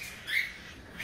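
A crossbred budgerigar (Australian parakeet) gives a short, shrill squawk close by, rising briefly over a quiet indoor background.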